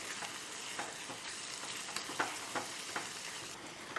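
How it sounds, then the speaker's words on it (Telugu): Grated raw mango frying in a pan gives a soft, steady sizzle with intermittent faint scraping stirs, quiet and close with no voices. "బాగా ఫ్రై అయిపోయిందండి మామిడి తురుము కూడా"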